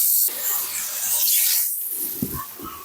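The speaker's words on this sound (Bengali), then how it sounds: "এবার আমি দিয়ে দেবো কিছুটা পরিমাণ মতো জল।" Water hits a hot pan of sizzling prawn masala for yogurt prawn curry, giving a loud spraying hiss that drops off briefly, then the sizzle returns with a few stirring knocks.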